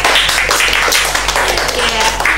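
Audience clapping for guests at the close of a student podcast session, a dense burst of claps filling the whole moment with no talk.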